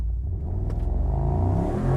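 Mercedes-AMG SL 55 launching hard from a standstill in a timed 0 to 60 run, a loud, close, low engine rumble that builds and swells throughout, with no voices.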